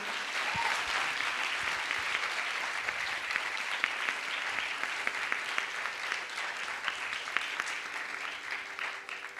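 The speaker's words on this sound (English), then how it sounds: "Can we please have another huge round of applause for Tejashree?" An audience at a Bharatanatyam dance recital applauds steadily for several seconds, a dense clapping wash with a few sharper claps standing out, no speech.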